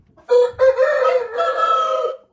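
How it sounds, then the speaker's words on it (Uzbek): A blind rooster crowing once at close range, a loud, strained call lasting about two seconds, rising after a brief opening note and then held before cutting off, with no other sounds around it. "Bu ko'r xo'rozimiz."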